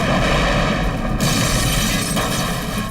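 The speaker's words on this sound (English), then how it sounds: "A massive bomb detonates at the Cuban mission to the United Nations." A massive bomb detonating at a diplomatic mission in uptown Manhattan, a dense, loud roaring blast that rumbles on without letup, heavy low-end boom filling the whole stretch.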